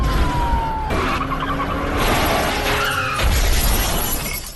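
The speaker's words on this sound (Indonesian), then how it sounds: "mobil tersebut mengalami kecelakaan setelah menabrak sebuah tiang listrik" A speeding car in a police chase smashes into an electric pole in a film scene, a loud burst of shattering glass and crunching metal with tire screeches and a brief siren wail mixed in.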